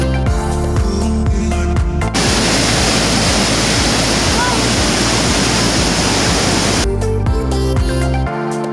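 A powerful spring waterfall in Yosemite National Park roars as a loud, dense, constant rush of water, with people's voices and other sounds heard briefly at the start and end.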